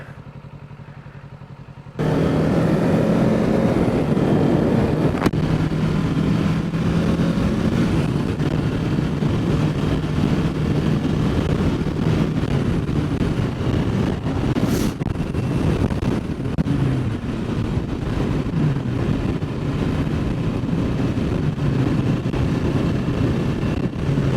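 A motorbike is ridden at speed, its engine droning steadily under heavy wind buffeting after a brief quiet start, with occasional clatter and no voices.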